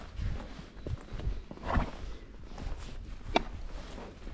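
A ridden mare's hooves clip-clop at a walk, a steady rhythm of close, hollow footfalls with one sharper knock, heard alone without voices.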